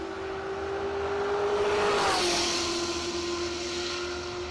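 A 1969 Plymouth Valiant and a 1965 Mustang drag racing at a radial-tire event. Loud engine roar swells to a peak as the cars pass, with a sustained whining tone through the run, then it eases off.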